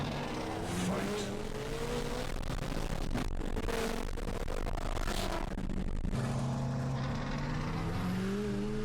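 A turbocharged Mustang on a Texas street runs anti-lag, making a droning engine note broken by sharp crackling bursts, heard from close by with voices talking.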